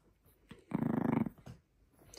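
A Chihuahua gives a short, close, rumbling growl of about half a second, set between quieter breaths and small rustles.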